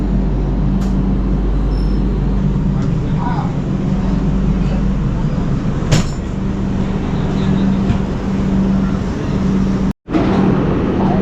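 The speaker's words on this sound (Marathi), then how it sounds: "आता बघा 5:15ला गाडी खेडला आली, मांडवी एक्सप्रेस" Mandovi Express train pulling into Khed station, a continuous low rumble of wheels and carriages with occasional sharp clanks, heard up close at a steady level.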